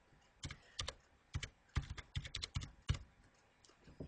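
Keystrokes on a computer keyboard as a password is typed into a login screen, a dozen or so sharp clicks in uneven bursts, close and fairly quiet with no talking.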